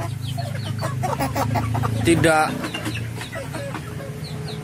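Chickens in a postal litter coop, clucking and calling close by under someone speaking throughout, with a louder burst of fowl noise midway.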